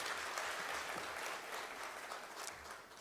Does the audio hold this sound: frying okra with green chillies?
no